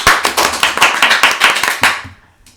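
Several people clap together on a sports podcast, roughly a dozen sharp, close, irregular claps in a quick run that thins out and fades to near silence at the end.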